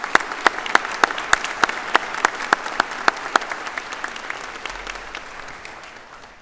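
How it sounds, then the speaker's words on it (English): Scattered, crisp hand claps from a university convocation audience at UNB Fredericton, the individual claps distinct and fairly close, thinning and softening over about six seconds. "Please join me in a round of applause"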